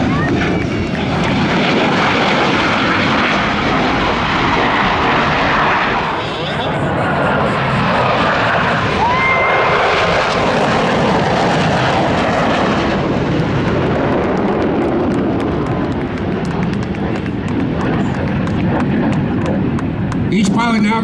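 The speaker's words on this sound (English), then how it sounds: "all four aircraft will come back passing over center point at the same time" Blue Angels jets flying over Pensacola NAS during an air show, a loud, sustained roaring rush of engine noise swelling and fading across the whole stretch, with a narrator's voice over a loudspeaker talking throughout.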